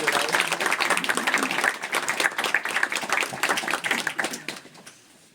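A book-signing audience breaks into dense, steady applause close by, holding strong for several seconds before thinning and fading out at the end.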